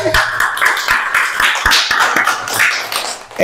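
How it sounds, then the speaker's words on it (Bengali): A group of people clapping at a lottery winner announcement, a close, loud burst of many overlapping hand claps that keeps going unevenly throughout, with no talk. "হাততালি দাও, হাততালি"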